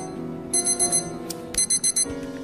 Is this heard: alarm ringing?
yes